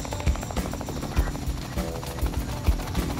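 A Robinson R44 helicopter sets down at the South Pole, its rotor giving a close, steady, rhythmic thudding chop with heavy low rumble and engine whine throughout.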